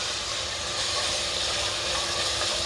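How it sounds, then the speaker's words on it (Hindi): Katchuri keema fries in hot oil, giving a steady, dense sizzling hiss that stays even and close throughout, with no talking. "मैं अब इसकी अच्छी से भुनाई कर लूँगी।"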